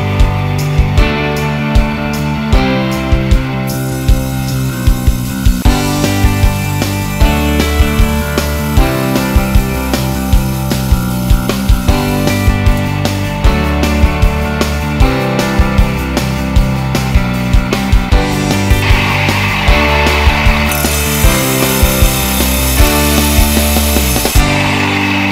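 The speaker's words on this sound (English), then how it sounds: "Go ahead and turn on the trim saw." Trim saw cutting a stone cabochon from King Solomon's mine, USA: a steady, loud grinding whine of blade on stone runs throughout, with rhythmic rubbing pulses and shifts in pitch as the cut is fed.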